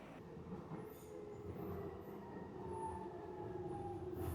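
A new DLR train runs along the rails with a steady rumble and rolling wheel noise, plus occasional high metallic wheel squeals. The sound is close and continuous.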